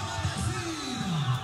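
Ceará supporters roaring as a dense crowd at a one-on-one street football match, a continuous wash of cheering with a rising and falling bellow standing out, no clear talk over it.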